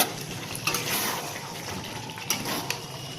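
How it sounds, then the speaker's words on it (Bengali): Soaked potatoes tipped into a pan of simmering meat curry and stirred, giving soft wet scrapes and a couple of brief clinks of a utensil against the pot, fairly quiet with no talking. "এবার আলুটা যে ভিজে রেখেছিলাম, এবার আলুটা দিয়ে দিচ্ছি"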